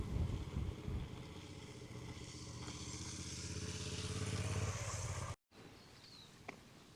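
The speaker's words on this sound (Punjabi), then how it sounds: "ਕਰ ਲਿਆ ਮੋਟਰਸਾਈਕਲ ਸਟਾਰਟ" A nearby motorcycle engine runs with a steady rumble and wind buffeting the microphone on a deserted road by a beach in New Zealand, then cuts out abruptly into quiet outdoor ambience.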